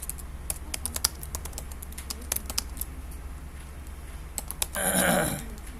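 Fast, uneven typing on a computer keyboard during a MySQL lesson, crisp close key clicks in bursts with a louder clatter near the end.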